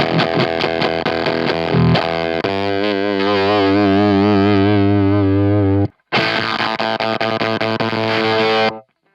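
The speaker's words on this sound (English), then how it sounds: "Let's try it with more distortion, see how blown out we can get it." Heavy, blown-out fuzz and distortion on an electric guitar played through a Color Box overdrive, loud and close. Choppy strummed chords lead into a long sustained chord, then after a brief cut comes more strumming that ends abruptly.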